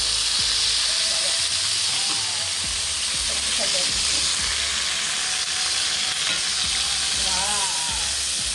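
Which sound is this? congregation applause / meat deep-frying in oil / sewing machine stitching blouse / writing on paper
meat deep-frying in oil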